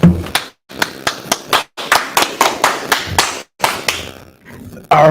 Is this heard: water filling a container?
no